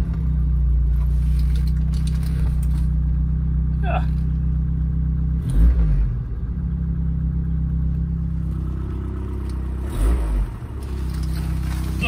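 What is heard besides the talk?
old van engine running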